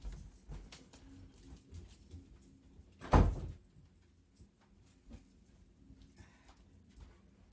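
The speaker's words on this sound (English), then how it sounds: "Let me close this door." A door is pushed shut indoors, giving one loud, solid thud near the middle of a quiet room with faint background shuffling before and after.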